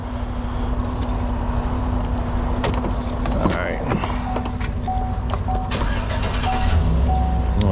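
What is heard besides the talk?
Freightliner service truck being started with keys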